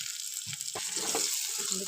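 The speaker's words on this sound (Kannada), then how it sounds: "ಇವಾಗ ಇದನ್ನು ಒಗ್ಗರಣೆಲೆ ಹಾಕಿ ನಾವು ಸ್ವಲ್ಪ ಹಸಿ ವಾಸಿ ಹೋಗೋವರೆಗೂ ಇದನ್ನು ಫ್ರೈ ಮಾಡ್ಕೋಬೇಕು" Ground masala paste frying in tempering oil for hotel-style aloo kurma, a faint, steady sizzle with soft stirring bumps and pops, no voices.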